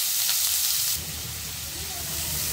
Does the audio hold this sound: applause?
no